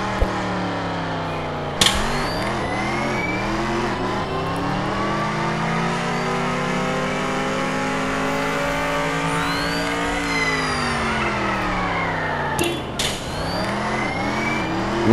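A fast-moving fire truck on a mountain roars with a loud, continuous engine note that rises and falls as it revs and shifts, broken by two sharp knocks near the start and end.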